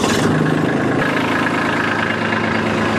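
A tractor engine runs at a steady, loud idle after starting, a continuous close rumble with even vibration throughout and no voices.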